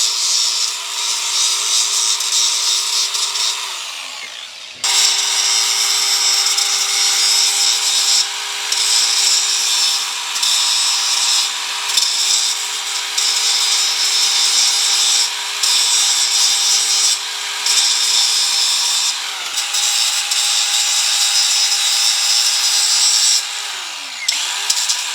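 Power grinder working a metal part during excavator repair, a loud continuous high-pitched whine with brief dips where the tool lifts off, steady and close for the whole stretch with no talk.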